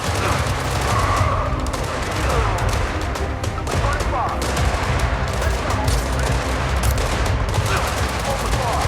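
Dense, rapid bursts of gunfire from the mobile game Gangstar Mirage City, loud and continuous with overlapping volleys and some booms, with voices speaking underneath.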